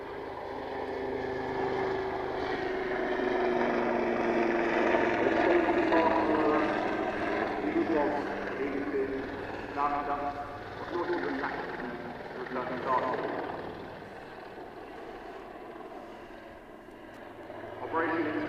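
Wildcat helicopter flying at the Farnborough airshow, a distant rotor and engine drone rising and fading as it passes, heard under an announcer's continuous commentary.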